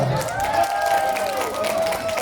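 Applause from an audience welcoming Aswar to a seat at a gathering, a steady wash of clapping over a murmuring crowd, with a tonal voice or hum running through it.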